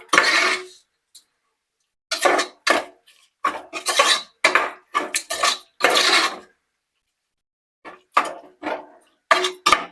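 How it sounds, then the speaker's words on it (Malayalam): Raw jackfruit masala is stirred in a pot with a spoon, making bursts of close scraping and clattering that start and stop between short pauses, with no voices. "ഇത് കുറച്ച് ഇളക്കി കൊടുത്തു"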